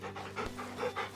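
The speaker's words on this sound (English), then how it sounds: "Okay, we got a dog." A dog pants rapidly and close by in the video game Final Fantasy XVI, with quick rhythmic breaths repeating steadily across the moment, no talking.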